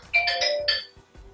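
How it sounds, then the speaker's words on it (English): A phone left on rings out with a bright chiming notification tone in two or three quick melodic bursts, loud and close, fading into quiet. "I forgot to turn off my phone for the video."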